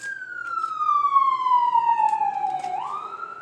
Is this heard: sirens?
yes